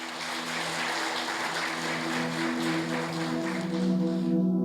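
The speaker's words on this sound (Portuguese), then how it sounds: "aplaude ele" A church congregation applauds in a dense, continuous wash of clapping, with a sustained low tone from music or an instrument underneath.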